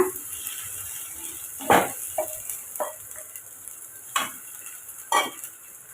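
Okra sizzling steadily in a pan, with several distinct scraping stirs of a spatula breaking through the hiss at irregular intervals; close and clear, no talking.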